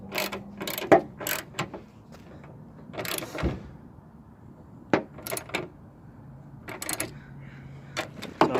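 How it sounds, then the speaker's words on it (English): A ratchet wrench tightens headlight bolts on a 1995 Geo Prizm in short bursts of rapid clicking, separated by brief pauses. "Now we're just gonna snug it back up with our wrench, make sure it's on the tightening."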